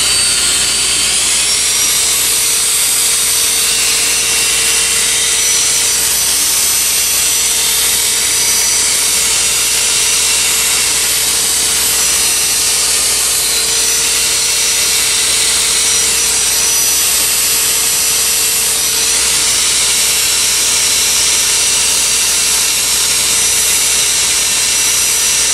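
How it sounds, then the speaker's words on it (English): A wooden snowman spins on a woodturning lathe while a power sander runs against it with 600-grit Klingspor paper, making a steady, loud, continuous hiss and whir that lasts the full length without talk. "a little bit of power sanding to get with 600 to get rid of those final scratches"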